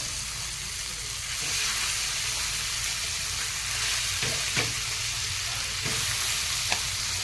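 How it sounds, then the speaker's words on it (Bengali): Tandoori chicken pieces sizzle and fry in hot butter, a steady close crackle with occasional sharper pops and stirring scrapes as the pan keeps hissing throughout. "গরম বাটারটা একটু দিয়ে দেব এই গরম হয়ে গেছে এবারে চিকেনগুলো দিয়ে দেবো"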